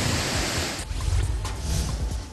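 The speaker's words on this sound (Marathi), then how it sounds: "समुद्राच्या लाटा किनाऱ्यावर धडकल्याने पाण्याच्या फेसापासून नयनरम्य नजराणा तयार झाला" Sea waves surging onto the rocky shore at Malvan's Rock Garden, a loud, dense roar of churning surf and foam that swells and recedes, close by and without voices.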